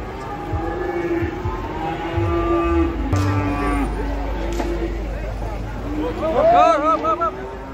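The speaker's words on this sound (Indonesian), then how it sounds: "Datang lagi ke sapi ngamuk ini di pasar Penambarawan." Cattle moo loudly at a busy livestock market in Penambarawan, long drawn-out calls near and farther off over a low rumble and crowd babble, with people talking.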